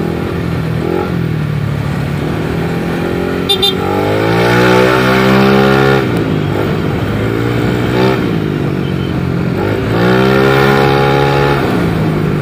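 A Yamaha Lexi 155cc scooter engine, likely on its stand, revs loudly and close up, climbing and falling in pitch through several throttle blips over a steady idle drone.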